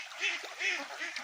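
Domestic ducks raised on a farm give a few short nasal quacks in quick bursts, fairly close and moderately loud against steady background noise.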